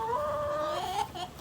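Chickens clucking inside a coop during evening egg-gathering chores on a farm, a steady run of close, moderately loud calls for a moment before tapering off.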